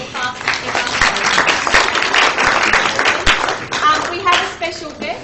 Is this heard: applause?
yes